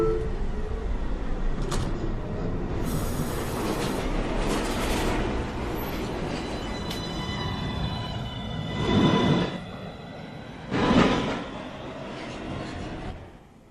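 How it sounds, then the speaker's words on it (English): A New York City subway 1 train, Manhattan-bound local at Fulton Street, sits in the station with a steady loud rumble and hiss, then its doors close with two sharp thumps about two seconds apart. "Stand clear of the closing doors, please."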